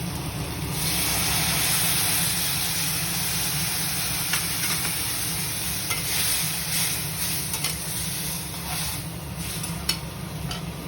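Bitter gourd frying in a pan as mustard paste is stirred in, a steady loud sizzle with scraping stir sounds and a constant kitchen hum underneath, no voices.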